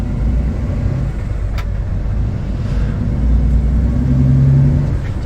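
Heavy truck with an 18-speed Road Ranger gearbox pulling away downhill, a steady loud low engine rumble that swells slightly as it moves off, with no talk.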